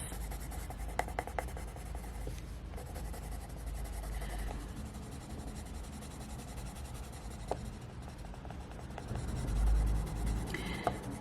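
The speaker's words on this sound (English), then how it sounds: "Just blend it so it's a back and forth blending process." Luminance coloured pencils rubbed back and forth on paper while blending, a steady soft scratchy scraping that continues through the stretch with no talk.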